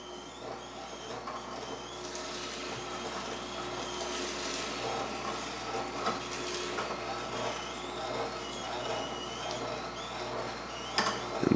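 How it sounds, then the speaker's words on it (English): An electric juicer grinds broccoli as it is pressed down with a plunger, giving a steady, fairly quiet mechanical whirr with faint rattling throughout and a brief louder clunk near the end. "Just press it down, and then I'm just going to go ahead and add more broccoli to the mix."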